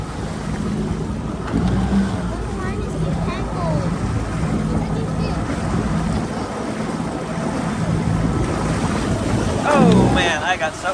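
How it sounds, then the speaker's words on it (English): Big ocean waves surge and slap around a fishing boat at sea, a continuous rushing wash with engine rumble and wind, while a person talks and exclaims over it and a louder splash comes near the end. "big waves out here, you guys"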